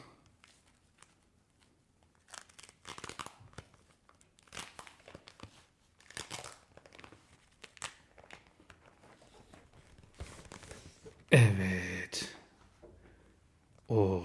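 Packaging of a Xiaomi Pad 6 tablet being torn open and crinkled in short bursts, with a loud ripping rustle near the end and talking in between.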